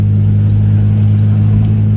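A car engine drones loud and close with a strong steady low hum as it pulls after a gear change, holding an even pitch without voices.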